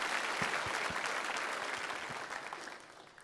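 A congregation at a charismatic evening church service applauds after the Gospel reading, a broad, even roar of clapping that slowly tapers off, fairly quiet and distant.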